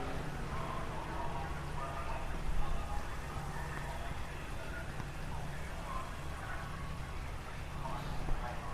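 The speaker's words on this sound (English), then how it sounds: "that's just the fans clapping in the stands to our left" Fans in grandstands at a motor race applauding, a continuous distant patter of many hands that sounds almost like rain, with someone talking over it.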